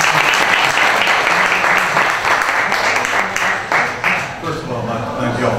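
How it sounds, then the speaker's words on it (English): An audience applauds a sheriff candidate, Ben Cowart, at a Fulton County, Georgia sheriff forum: dense, steady clapping that fills the room throughout and eases slightly toward the end, with a few voices mixed in. "Please, round of applause for Mr."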